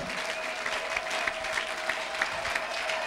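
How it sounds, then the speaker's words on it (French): A church congregation claps steadily together for Jesus, a dense, continuous, fairly close patter of hands with a faint sustained tone running underneath. "Clap your hands properly for Jesus"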